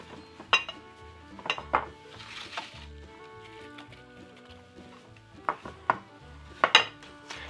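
Walnuts and apples being folded into a very thick apple walnut cake batter, giving scattered soft scraping and clinking knocks of a utensil against a bowl, some louder, over a quiet background.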